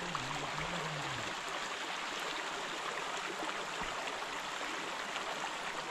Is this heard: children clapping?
no